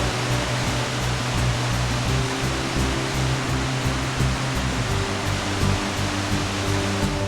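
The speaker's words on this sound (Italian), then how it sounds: "La cascata di Aldeyjarfoss è adiacente alla pista" Aldeyjarfoss waterfall in Iceland, its water pouring between black basalt columns, gives a steady, loud, broadband roar that never lets up, with a low rumble beneath.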